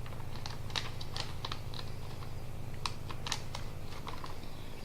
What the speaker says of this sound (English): Then fold it along the center crease